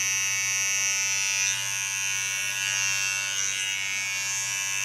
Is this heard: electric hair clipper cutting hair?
yes